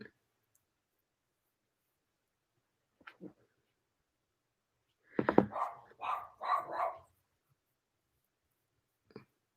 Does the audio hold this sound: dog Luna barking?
yes